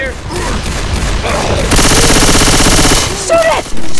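Sustained automatic gunfire rattles loudly in the zombie shooter Left 4 Dead 2, a dense stream of rapid shots following voices and game effects, then cutting off into another loud burst.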